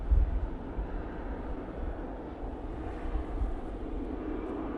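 A Ryanair airliner lands at Manchester Airport, its engines a steady distant low roar with some wind buffeting, heard alone without voices.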